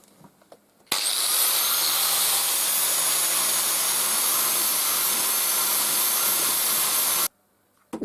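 An angle grinder fitted with a worn flap disc grinds into a common house brick, a loud steady high-pitched whine with gritty abrasive roar that starts abruptly and cuts off after about six seconds.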